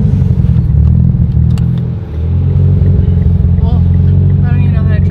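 Mitsubishi Evo X engine droning loudly from inside the car while driving, a deep steady rumble that dips briefly as if shifting gears, then picks back up, with voices talking over it.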